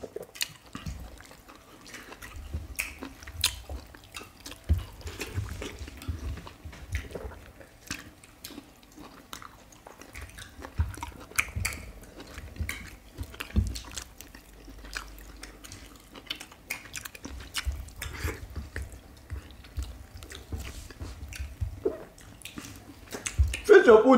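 Fufu with eggplant vegetable stew is eaten up close in soft, irregular wet chewing and smacking sounds that continue steadily throughout, with faint clinks and liquid noises.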